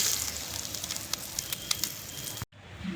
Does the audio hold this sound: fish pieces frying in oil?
yes